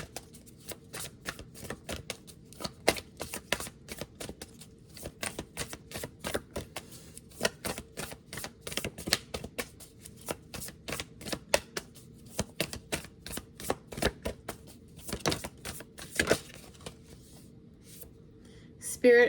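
Oracle cards from the Oracle of the 7 Energies deck are shuffled and drawn by hand, producing rapid, irregular crisp snaps and riffling flicks close up, continuing in bursts across the whole stretch at moderate volume.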